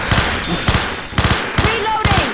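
Rapid bursts of automatic gunfire in Left 4 Dead 2, loud and close, arriving in four quick clustered volleys with short gaps between them, a voice briefly heard underneath.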